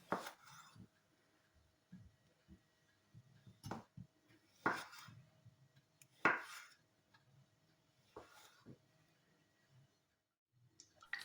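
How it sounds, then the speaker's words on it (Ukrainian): A knife cuts potatoes into quarters and eighths on a board, with a series of separate sharp chopping knocks spaced a second or two apart, fairly close and quiet, with small clicks and rustles in between and no talking. "Невеличку картоплю розрізаю на 4 частини, а більшу на 8."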